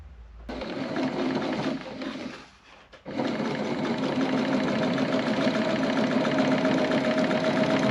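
A sewing machine runs steadily while stitching a homemade tool bag, a continuous mechanical whir with a short pause midway before it resumes at full speed, close and loud with no talk.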